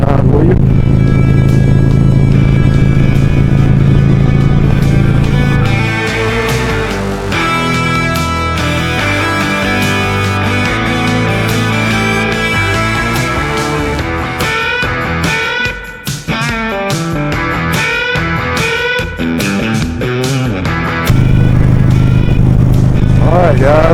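Motorcycles ride in a group with a club on an Alabama road. A loud, steady engine drone with wind rumble continues throughout, rising and falling as throttle changes, with a voice talking over it.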